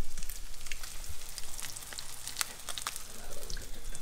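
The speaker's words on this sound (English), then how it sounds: "that flash frying of the fish" Tripletail fish fillets flash fry in hot oil in a pan, a steady, close crackling sizzle with scattered sharp pops throughout and no talking.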